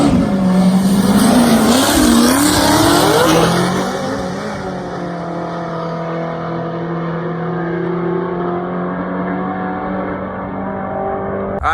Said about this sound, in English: I just raced Joe Cordes in this beautiful white C7, which is a manual car